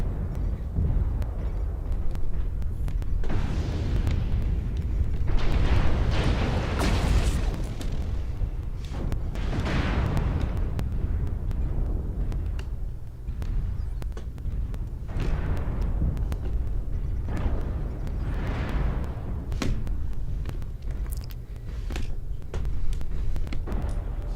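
Repeated heavy booms of an artillery strike in the mech combat video game Mechwarrior Online, several swelling blasts rolling over a constant loud rumble of battle, no talking.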